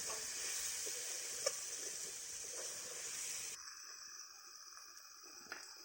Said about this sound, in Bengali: মা দিয়ে দিয়েছে টমেটো ও আলু সব শুদ্ধ ভালো করে কষে নিচ্ছে